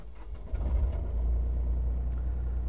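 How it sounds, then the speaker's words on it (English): A mini excavator's diesel engine cranking and catching, settling into a deep, steady low rumble close by, loud and continuous with no voices. "And then I usually will just crank it up."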